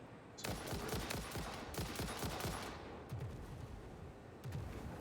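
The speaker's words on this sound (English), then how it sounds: "What is shooting?" Rapid automatic gunfire in the game Satisfactory, a dense, loud burst starting almost at once and running in clustered volleys through the whole stretch, with brief lulls and renewed bursts.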